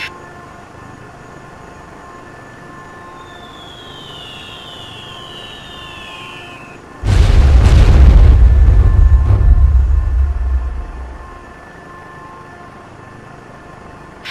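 Fire support explosion in the video game Comanche 4, one heavy deep boom that rises suddenly midway and rumbles for several seconds before fading, over a quiet background hum.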